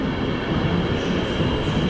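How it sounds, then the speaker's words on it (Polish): A passenger train pulls out of Kraków Główny station, a loud, close, continuous rumble of wheels and cars rolling past with no voices. "Rusza pociąg Sztygar do stacji Lublin Główny."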